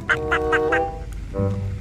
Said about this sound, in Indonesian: ini ada bebek angsa